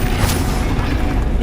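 In the Hogwarts Legacy video game, the Bombarda spell goes off as a short, dense explosive boom with a heavy, rumbling low end, loud and immediate.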